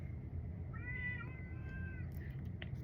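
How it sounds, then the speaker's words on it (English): A cat meows outdoors, a single drawn-out tonal call at moderate distance over a steady low background rumble, followed by a brief faint chirp. "My roommate's cat's out there."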